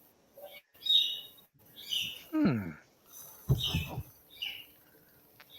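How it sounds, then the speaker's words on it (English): Several short chirps and tweets from chickens come in separate bursts, some high and thin, others lower and buzzier, with quiet gaps between them. "Chickens chirping away."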